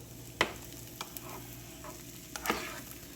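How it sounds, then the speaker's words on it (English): A utensil stirs spaghetti noodles in a pot of boiling water, giving two quiet scraping strokes a couple of seconds apart over a soft, steady bubbling hiss. "Just gonna stir them so they won't stick together."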